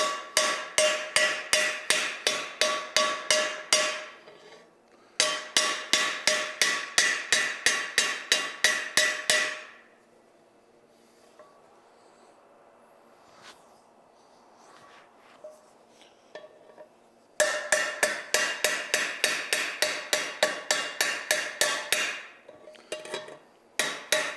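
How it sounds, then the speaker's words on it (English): Ball peen hammer setting rivets on a carbon steel skillet: rapid bursts of sharp metallic strikes, a steady train of ringing blows, a quieter pause with faint clinks, then another loud run of hammering. "So when setting these rivets, we use a ball peen hammer."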